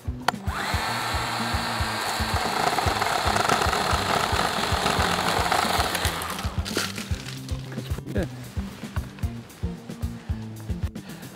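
A Litheli 40V battery pole saw whines steadily as it cuts through a tree limb, then the motor stops and clattering, cracking sounds of wood and branches follow.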